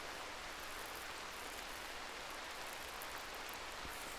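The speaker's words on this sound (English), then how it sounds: "He doesn't like it that it's rainy and dark." Steady rain hiss from the video game RimWorld, a continuous even wash of falling rain with no pauses, soft and constant throughout.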